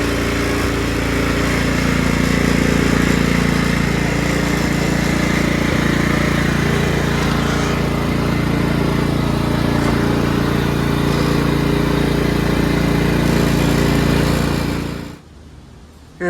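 A Craftsman LT1000 lawn tractor engine runs loud and steady during a test drive, a close, continuous drone with slight shifts in pitch that cuts off abruptly near the end.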